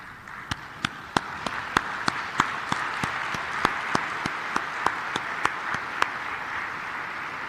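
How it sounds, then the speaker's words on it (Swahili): An audience at an African coffee-producing countries summit claps in honour of coffee farmers, with sharp claps in an even rhythm over a diffuse wash of crowd applause that lasts for several seconds. "Kwa heshima ya wakulima wa kahawa barani Afrika, naomba tusimame na tuwapigie makofi."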